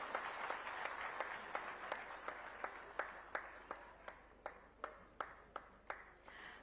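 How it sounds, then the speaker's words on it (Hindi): Steady rhythmic applause at a Rajasthan ceremony honouring Kargil martyrs' families, sharp evenly spaced claps in unison under a dense wash of crowd clapping, moderately loud and continuing without talk. "आइए जोरदार तालियों के साथ उनका स्वागत करें।"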